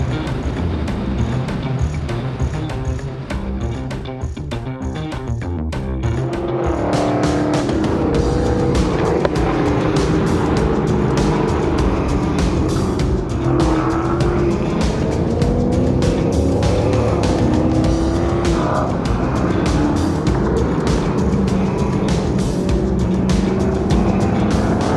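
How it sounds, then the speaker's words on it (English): Dodge Hellcat cars on a race track at a driving school, engines roaring steadily at high revs with tire squeal and skidding, loud and close throughout, with a quieter stretch near the start before the engine noise swells. "So let's jump in these. Hellcats and get it going."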